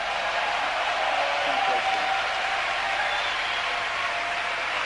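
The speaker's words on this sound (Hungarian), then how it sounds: "Give him a big clap." A church congregation claps in steady, dense applause throughout, a crowd-wide patter with a faint voice running underneath.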